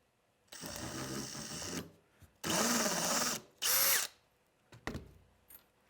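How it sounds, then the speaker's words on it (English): Power drill driving screws into wood while assembling a bumper, three whirring bursts of one to two seconds each with pitch changes as the screw seats, then a few short taps and clicks, close and clear. "let's just go ahead and add the other screws here."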